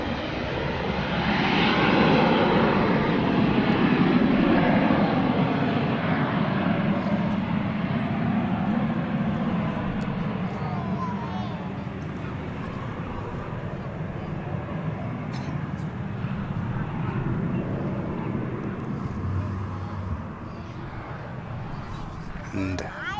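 Airliner taking off from an airport runway, a loud sustained jet engine roar with rising whine that gradually fades as it climbs away, under a voice commentating.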